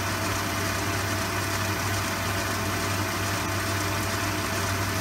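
An Elliott 14S lathe runs at 550 RPM turning work between centres, a steady even hum with a low drone and broad whirring, constant and close with no variation across the whole stretch.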